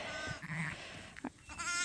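Sheep on a farm bleat in several short, close cries, loud and clear over a quiet barn background.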